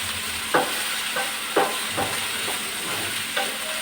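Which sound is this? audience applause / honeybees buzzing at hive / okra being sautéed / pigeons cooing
okra being sautéed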